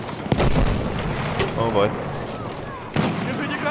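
Battlefield 1 multiplayer combat on the Galicia map: a grenade blast and gunfire roar as a dense, continuous barrage with sharp bursts near the start and end, while someone talks over it.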